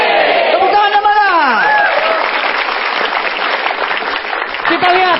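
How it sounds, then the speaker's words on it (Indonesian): Applause and cheering from a stand-up comedy audience, dense and steady across the whole stretch, with a voice speaking loudly over it and whoops near the end. "Tepuk tangan sekali lagi masih di Petro."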